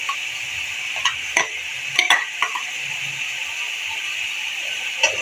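Chopped onions go into a hot pan over a high flame for a Karahi dish. A soft, steady sizzle runs under several sharp clinks and scrapes of a utensil stirring against the metal pan, with no talk.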